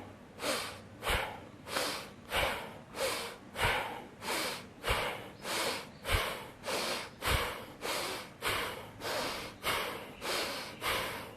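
Bhastrika yoga breathing through the nose: forceful, rhythmic in-and-out nasal breaths, about twenty strong pulses in a steady quick cadence, close and alone.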